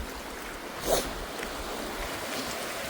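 Strong water rushing and surging with force as it rises, a steady, loud wash of broadband noise filling the whole stretch, with one brief louder splash near the start.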